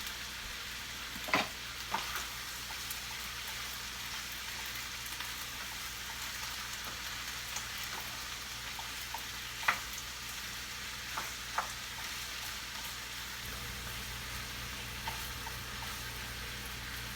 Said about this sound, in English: Chicken's cooking up nicely here in the pan.